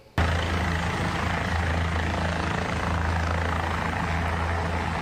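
Onondaga County Sheriff's rescue helicopter flying over a river, its rotor starting abruptly into a loud, steady, throbbing drone held close and constant.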